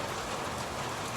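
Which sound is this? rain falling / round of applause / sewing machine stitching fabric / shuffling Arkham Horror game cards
rain falling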